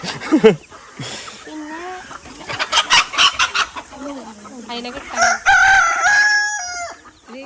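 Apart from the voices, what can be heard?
chickens clucking and rooster crowing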